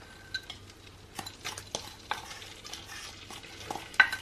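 A utensil stirs caster sugar into melted butter in a pan, with soft scraping and intermittent light taps against the pan, close and fairly quiet, ending with a sharper clink.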